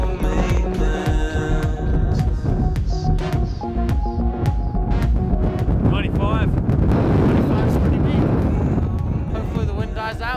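Strong wind blows loudly and continuously across the microphone outdoors, with gusting roar and scattered clattering knocks and tones mixed in.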